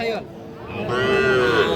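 A crossbred bull calf gives one drawn-out moo, close and clear, rising slightly in pitch toward the end, at a cattle market.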